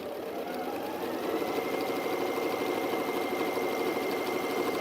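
A sewing machine stitches fabric with a continuous, fairly loud motor whir that runs evenly from start to finish, with no pauses and no talking.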